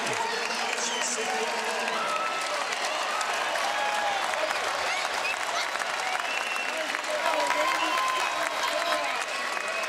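A large crowd at a Marquette at Seton Hall college basketball game applauds and cheers in a steady, loud wash, with a commentator's voice heard over it.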